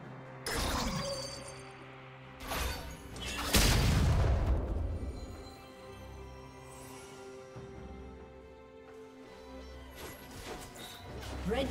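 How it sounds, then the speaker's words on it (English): A League of Legends turret is destroyed in a loud crashing blast near four seconds, preceded by smaller impacts and followed by lighter game effects and clatter over a quiet background. "Red team's turret has been destroyed."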